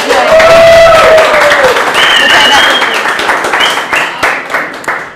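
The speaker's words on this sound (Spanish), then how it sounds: "Un aplauso para el Tigre" Audience applause and cheering for Tigre Flores at the Domadores 2016 season launch, a dense loud crowd sound with voices and whistles mixed in, tapering off toward the end.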